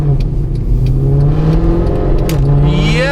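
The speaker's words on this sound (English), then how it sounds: "Guys, listen to this exhaust." A Mercedes W204 C63 AMG with an X-pipe exhaust revs while driving, giving a deep, loud, continuous engine drone with the pitch rising and falling, close up, with no talking.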